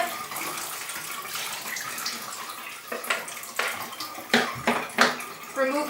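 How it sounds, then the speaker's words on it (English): Water sloshes and pours out of a pottery bucket at a potter's wheel, with splashes and clunks of tools in between and a voice talking under the noise. "Dump all of the water out of your bucket"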